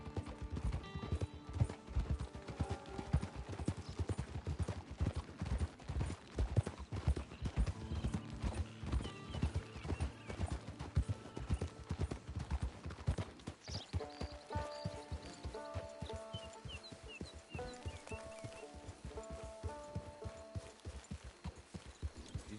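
Horse hooves clip-clopping in Red Dead Online, a steady rhythmic trot throughout with occasional snorts, over quiet in-game background sound, then slowing near the end.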